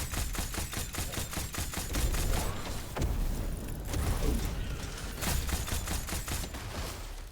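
Rapid gunfire in the first-person shooter Witchfire, dense repeated shots in quick rhythmic bursts with heavy low thumps, loud and close, continuing almost without pause alongside clattering combat effects.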